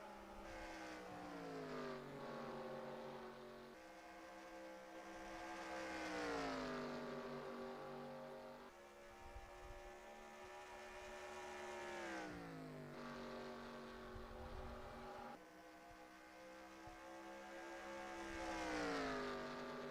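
Race cars in the NASCAR Racing 2003 video game at Dover, engines droning loudly with long rising and falling pitch sweeps as cars pass and shift, continuous and close throughout.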